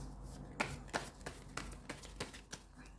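Tarot cards are handled while a fallen card is picked up, giving a quick run of soft papery taps and flicks up close, with no talking.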